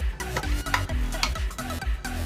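Chana dal frying in a spoonful of hot oil in a kadai for tempering, a steady close sizzle broken by repeated scraping and stirring knocks at an uneven rhythm, with no talking.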